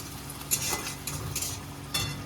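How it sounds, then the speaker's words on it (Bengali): A soft, steady sizzle of onion, dried red chillies, whole cumin and green chillies frying together in a pan, with occasional light clinks and scrapes of a utensil; no one speaks. "পেঁয়াজ শুকনো লঙ্কা গোটা জিরে আর কাঁচা লঙ্কা একসাথে ভেজে নিলাম"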